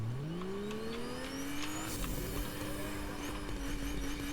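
A car driving in the video game Fortnite, its engine revving and rising steadily in pitch as it accelerates, with faint tire squeal and game effects in the background, loud and continuous.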